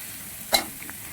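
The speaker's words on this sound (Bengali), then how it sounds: "পেঁয়াজটা ভালো করে নেড়ে চেড়ে আমি লাল হয়ে যাওয়া পর্যন্ত ভেজে নিচ্ছি" Onions frying in a pan, a soft steady sizzle broken by one sharp scrape of a spoon stirring them midway, faint and close.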